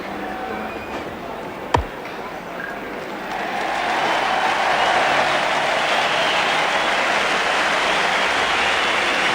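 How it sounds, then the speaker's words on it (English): A big stadium crowd at the MCG applauds Graham Wood's fifty during an Australia versus New Zealand cricket match. A sharp knock comes early, then a broad, sustained wash of clapping swells and holds steady to the end. "Applause from this big crowd for Graham Wood's 50"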